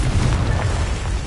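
A loud, heavy blast from the Confringo spell in Hogwarts Legacy, a dense low rumbling boom that holds steady through its brief length.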